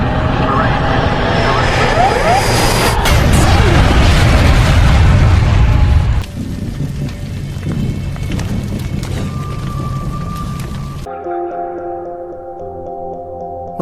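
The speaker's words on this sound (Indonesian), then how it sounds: "pesawatnya menabrak Gunung Bromo" A film scene of an airplane crashing into Mount Bromo: a loud, rumbling roar and booming impact fill the first half, then the noise cuts to a thinner rushing din and finally drops away into sustained tonal music, with a voice over parts of it.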